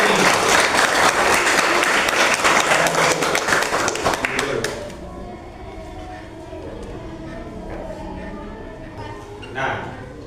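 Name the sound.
applause for three students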